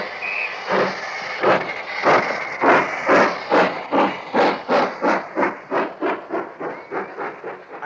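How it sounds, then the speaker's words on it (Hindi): Steam train pulling away, loud rhythmic chuffs of exhaust steam speeding up steadily over several seconds, with hiss between beats and no talk. "ट्रेन चली।"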